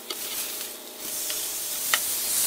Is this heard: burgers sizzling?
yes